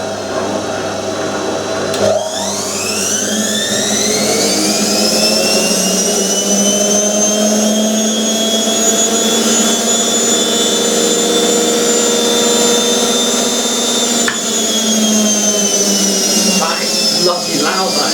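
A Hotpoint 9530 washing machine, fitted with new motor carbon brushes, spins up with a rising whine that settles into a loud, steady high-pitched drone, while a person talks now and then.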